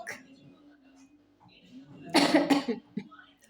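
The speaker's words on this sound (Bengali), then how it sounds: "কাশি উঠে গেছে আমার" A person coughs twice in quick succession, loud and close, after some quiet murmuring.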